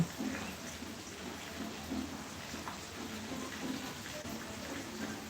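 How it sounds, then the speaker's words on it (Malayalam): Soft, steady rain patters in the background, a gentle wash of drops with faint low rumbles, no voices. "ഇവിടെ ഇപ്പം നല്ല മഴ"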